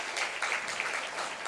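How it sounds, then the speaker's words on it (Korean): A church congregation in Ulsan claps together during a Sunday worship service, a steady, moderately loud wash of hands with no voices over it. "박수 한번 해주시기 바랍니다"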